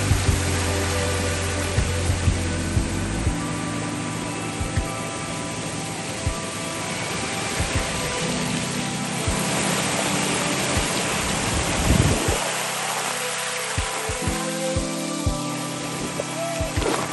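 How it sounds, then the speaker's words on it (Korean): Clear mountain stream water in a valley of Gayasan provincial park rushes in a steady broadband wash, close and fairly loud, with faint intermittent rumbles beneath and no talk. "이 계절에 특히 시원하게 들리는 물소리입니다"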